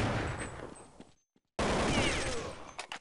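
Rapid gunfire in a video game shooter, loud and close, breaking off into a brief silence before another dense burst of shots resumes.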